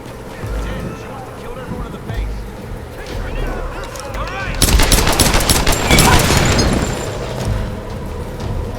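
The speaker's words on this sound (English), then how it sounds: "It's like there's a gun going off right in my ear." Gunfire in the video game Tomb Raider (2013) arrives as a dense volley of sharp shots in the middle of the clip, loud and close. It sits over a busy game soundscape, with a steadier rumble before and after the burst.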